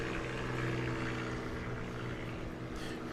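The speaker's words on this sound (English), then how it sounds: "So that is going to be his best takeoff right there on the third run." STOL aircraft on its third takeoff run at a national STOL competition in St. Joseph, Missouri, with a loud, close propeller engine roar holding steady and full throughout.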